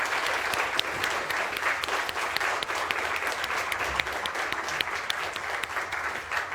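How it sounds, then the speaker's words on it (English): Sustained applause from an audience for discussion panelists at the close of a talk, a dense, even roar of many hands clapping with no voices over it. "let's give a big round of applause for our panelists"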